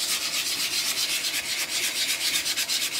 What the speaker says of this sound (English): And we're just gonna keep sanding